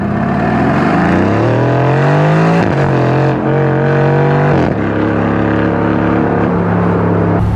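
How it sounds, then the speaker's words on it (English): A 2021 Aston Martin Vantage Roadster's V8 in Sport Plus mode roars loudly up through the revs, with sharp cracks at each gear change and a deep sustained growl, close and dominating. "that V8 roar and the crack on every upshift, downshift, and frankly, whenever you let off the throttle"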